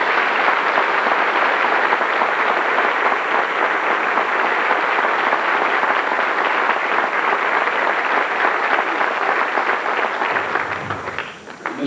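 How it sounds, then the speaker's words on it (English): Sustained, dense applause from a school band concert audience at Hollis High School, steady and loud for about ten seconds before tapering off near the end. "So let's give them a round of applause."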